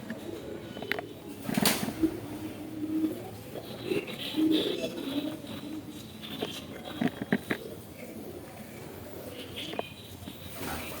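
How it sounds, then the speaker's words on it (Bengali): Pigeons coo softly in an old zamindar house, a faint low murmur in a quiet echoing room, broken now and then by sharper knocks and brief rustles. "এখনো পায়রা উড়ে বেড়াচ্ছে।"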